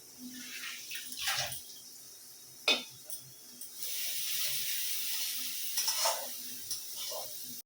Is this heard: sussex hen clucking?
no